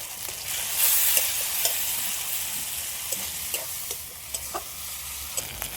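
Ground paste of dried chilli, ginger, garlic, cumin and coriander powder frying in oil, stirred in a pan: steady close sizzle with regular light spatula taps and scrapes, no voices.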